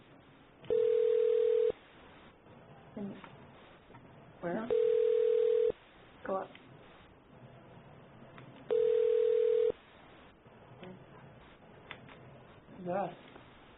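A phone ringback tone sounds in three steady one-second beeps spaced about four seconds apart, with brief speech and clicks between them.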